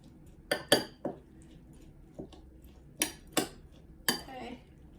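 Rye flakes being mixed in a bowl for a sourdough stout boule, giving a handful of separate clinking, scraping strokes against the bowl with quiet gaps between them.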